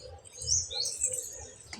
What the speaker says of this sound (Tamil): குருவி பார்த்திங்கன்னா வந்து வந்து குஞ்சுகளுக்கு சாப்பாடு கொடுத்துட்டு போய்கிட்டு இருக்கு